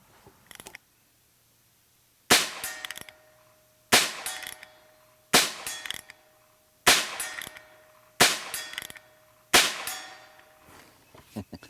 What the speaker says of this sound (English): shooting at 50 yards, and of course the sights these are iron sights